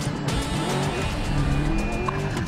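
Car traffic in a Dubai car-chase mission of Medal of Honor Warfighter: steady close engine roar with tire squeal and skidding, a continuous loud rush with no pauses.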